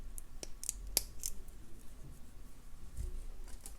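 Small scissors snip off excess wire on a beaded pendant, giving a few faint, sharp clicks close by in an otherwise quiet room.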